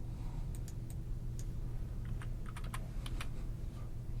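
Numbers typed on a computer keyboard: a scattered run of crisp, close key clicks in small bursts over a steady low background hum.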